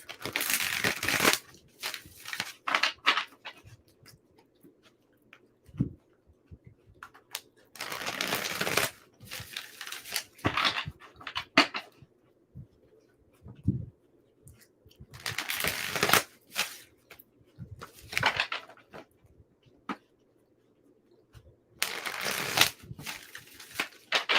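Tarot cards are shuffled by hand in repeated bursts of riffling and slapping, close and crisp, separated by brief pauses.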